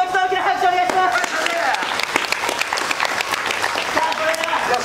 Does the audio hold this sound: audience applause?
yes